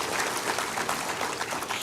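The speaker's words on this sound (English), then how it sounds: "Please clap." A crowd at an outdoor birthday barbecue event applauds a speaker on stage, giving a steady, even burst of many hands clapping for about two seconds.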